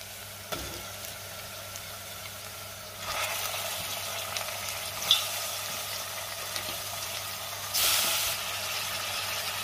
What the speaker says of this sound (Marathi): चिकन मी सुरुवातीचे 5 ते 6 मिनिटं तेलावरती व्यवस्थित परतून घेणार आहे।